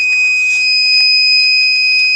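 A temperature alarm sounds during electromagnetic boiler component testing, a loud, steady, piercing electronic tone that holds without a break for about two seconds.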